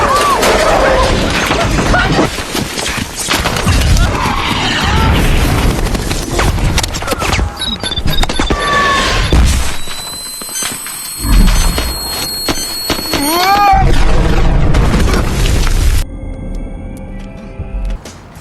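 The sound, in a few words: missile explosion in Iron Man movie scene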